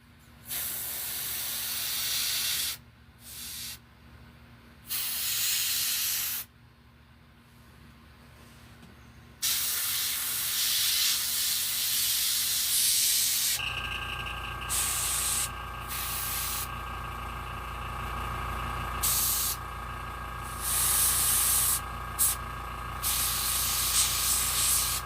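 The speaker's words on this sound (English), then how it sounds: "Make sure we're spraying out the right color." Spray paint hisses in bursts onto a Jason mask, several short blasts with brief pauses, then a longer steady spray close by.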